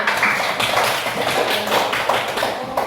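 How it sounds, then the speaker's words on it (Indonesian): Children clap their hands in a classroom group, a dense, steady patter of many overlapping claps running continuously and fairly loud throughout. "Tepuk tangan."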